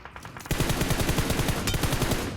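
Rapid automatic gunfire from a PUBG Mobile match, a loud, dense burst of shots that starts abruptly and continues steadily to the end, with no talking.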